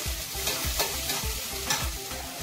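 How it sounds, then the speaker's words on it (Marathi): Finely chopped green chillies frying in a pan for a fasting-day vegetable dish, a steady close sizzle broken by rhythmic scraping strokes of a spatula roughly every half second. "इथे मी 4 मिरच्या अशा बारीक कट करून घेतले, त्या वापरते. छान असे त्याला आपण भाजून घेऊया."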